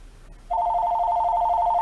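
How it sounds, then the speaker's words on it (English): A phone ringing starts abruptly and goes on as a steady, loud electronic tone near the microphone, with no talking over it. "I'm making the video, and my phone rings."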